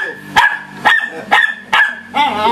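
A jealous pet dog barks four times in a steady rhythm, close and loud, then gives a longer whining yelp, with little else around it.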